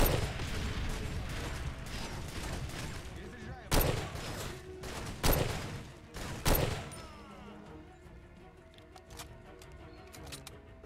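Automatic grenade launcher (AGS) fire in the Far Cry 2 video game: three heavy, spaced blasts with ringing decay over a busy background of game noise and mechanical clatter, fairly loud and close.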